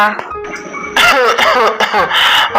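A person coughs several times in quick, harsh bursts, close and loud, after a brief quieter stretch with a faint tone.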